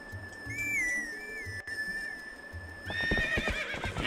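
Epona, a horse in the video game The Legend of Zelda: Twilight Princess, lets out a clear whinny near the start, and hoof clatter and movement noises build toward the end over a steady whistle-like tone.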